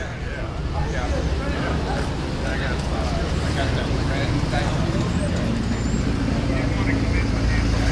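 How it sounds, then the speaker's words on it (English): A Volkswagen Beetle rolling into a classic car show, its engine a steady low rumble close by, mixed with crowd and outdoor noise throughout. "Good looking bug rolling in."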